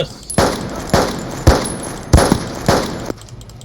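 A gas-operated rifle in an old-style army shooter fires six loud, sharp shots at a slow, evenly spaced cadence like a bolt-action rifle, each report followed by a short ringing decay.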